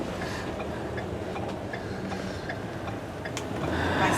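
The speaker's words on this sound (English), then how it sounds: "Train coming." A train rolls past on a Texas road trip near Galveston, a steady rumble with regular clickety-clack ticks from the rails, heard from a nearby vehicle and swelling slightly toward the end.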